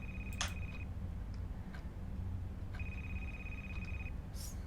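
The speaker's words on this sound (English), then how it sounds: "Is the ringing coming from inside here?" A telephone rings inside a horror exploration video game, two steady electronic trills separated by a pause, fairly faint over a low ambient rumble.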